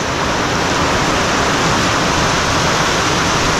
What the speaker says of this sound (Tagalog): Napakalakas na ulan ngayong hapon na to